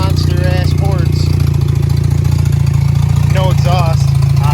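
A ported rotary engine in a Mazda RX-8 idles with no exhaust fitted, a steady loud low drone with a fast, choppy pulse running throughout, while someone talks over it.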